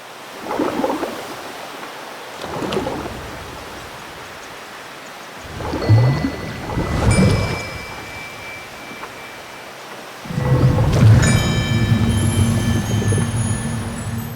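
Fishing sound design for a boat video game: soft chime and bell tones bloom over a hushed airy wash, then a denser layer of ringing bells and bubbly textures swells up near the end.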